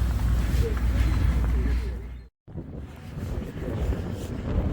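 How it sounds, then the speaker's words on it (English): Cold wind blowing on a pier by the water, a steady loud roar buffeting the microphone with a brief dropout midway before the gusting resumes. "It's freezing out here in the wind."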